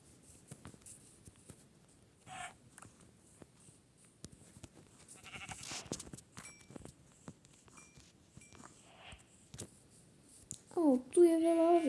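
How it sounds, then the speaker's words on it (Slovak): Video game sheep give a loud wavering bleat near the end, following scattered soft clicks, taps and faint sounds. "Tu je veľa oviec."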